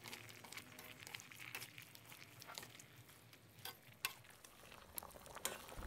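Mixed vegetables for jap chai soup are stir-fried with oyster sauce, dark soy sauce, palm sugar and sugar, giving a faint, soft sizzle with scattered scraping and stirring clicks and no talking.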